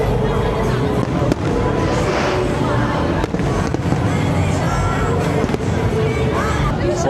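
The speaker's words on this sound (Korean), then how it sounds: "이 폭죽을 거의 한 30분에 하나씩 하는 것 같아요" Fireworks burst continuously and loudly at an outdoor beer festival in Qingdao, with sharp cracks and booms layered over a dense crowd babble.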